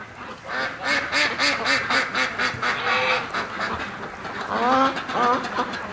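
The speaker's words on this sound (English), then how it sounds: "it would sound like you have ducks in your house all the time" A flock of female ducks quacking loudly and nonstop, overlapping calls filling the air close by, with no talking over them.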